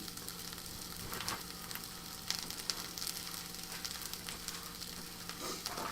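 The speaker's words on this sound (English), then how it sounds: "These onions are smelling wonderful currently. Give them another good stir." Onions frying in a pan give off a soft, steady sizzle with scattered crackles and a few faint stirring scrapes, fairly quiet and with no one talking.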